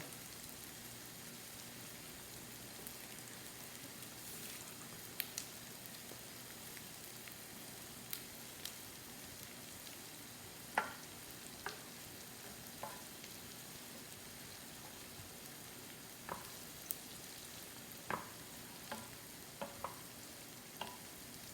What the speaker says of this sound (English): I've got them on high heat on my little butane stove